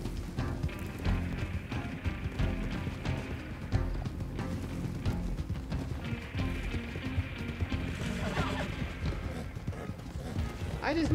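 Horse hooves clip-clop in a steady galloping rhythm in Red Dead Online, with creaking tack and other game sounds mixed in at a moderate, even level.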